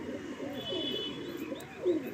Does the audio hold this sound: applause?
no